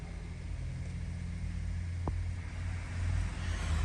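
A 2019 Ford Edge ST idles as a low, steady engine rumble inside the cabin, with one faint click midway and the hum swelling slightly near the end, no voices.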